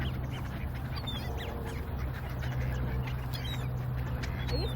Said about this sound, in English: The ducks know you because they all started running towards you.